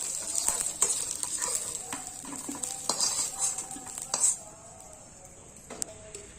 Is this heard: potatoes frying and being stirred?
yes